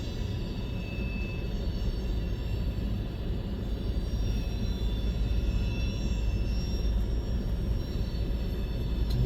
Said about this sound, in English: I hear the rear DPU now, the last of it.